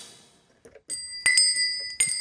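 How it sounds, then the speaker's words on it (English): Several bright metallic bell strikes ring out with sustained shimmering tones, a few hits spaced irregularly, close up with no speech. "Bells."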